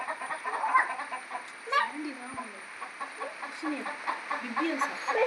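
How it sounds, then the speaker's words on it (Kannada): Hens cluck in short, scattered bursts across a farmyard, moderately near, with a faint steady whine in the background. "ಕೋಳಿ ಎಲ್ಲ ಕೊಕ್ ಕೊಕ್ ಮಾಡ್ತಾ ಇದ್ದಾವೆ"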